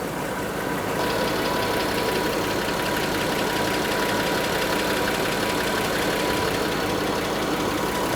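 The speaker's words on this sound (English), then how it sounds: "Now the vehicle is still running." A 2009-2010 BMW 535i xDrive engine idles, a steady, close, even hum and rumble that holds unchanged throughout with no voices.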